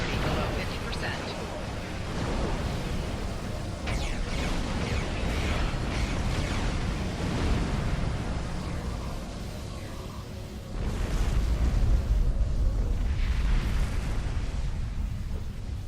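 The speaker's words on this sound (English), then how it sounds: "That was a glorious explosion" A starship blows up in a Star Trek space combat game, a sustained roar of explosive blasts and rumbling booms with game effects layered throughout, swelling into a heavier, louder burst near the end.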